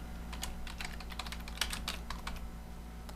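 Someone types a name on a computer keyboard, producing a quick run of light, close key clicks over a faint steady electrical hum, then the tapping tapers off.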